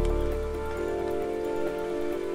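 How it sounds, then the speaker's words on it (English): Steady rain falling in the video game Ark Survival Evolved, a constant dense patter with faint droplet ticks, fairly loud and continuous with no voices. "Have shelter, we get out of this rain."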